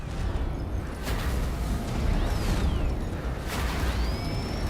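A video game gun spinning up and spraying bullets, heard as a continuous roar of rapid bursts with rising whining sweeps and a couple of sharper bangs, loud and close throughout.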